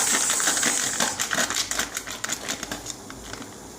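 A knife cuts through soft gulab jamun dough made from ready-made MTR mix, giving a steady run of close, crisp tapping clicks against the board with no talking.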